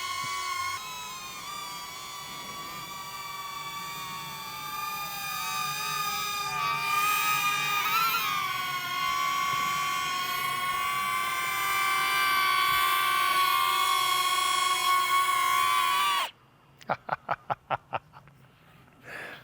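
A DJI Neo drone flies backwards, its steady high-pitched rotor whine loud and close with slight pitch shifts, then cuts off abruptly into a few sharp clicks.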